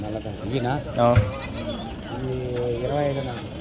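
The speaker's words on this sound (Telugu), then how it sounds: "మేకలు ఉన్నాయి తాతగట్టుగా మాకు" Goats bleat several times in wavering cries, mixed with people talking nearby throughout.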